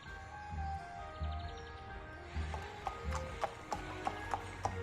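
Horse hooves clip-clop as a messenger arrives on horseback, the even clopping growing more distinct toward the end over soft background music.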